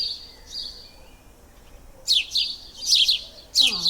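Small birds chirp outdoors in a backyard setting, with a few soft calls early, then bright, close bursts of quick tweets in several clusters, with no talking.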